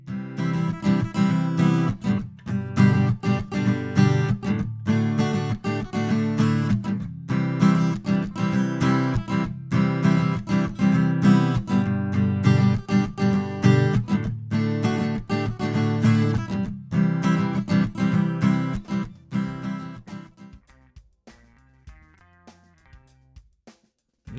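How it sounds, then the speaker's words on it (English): Acoustic guitar captured with a Rode NT2A condenser microphone, played steadily with strummed and picked chords for about twenty seconds, then fading to quiet sparse notes at the end, close and clear with no voices. "Here's the sound of an acoustic guitar with a Rode NT2A."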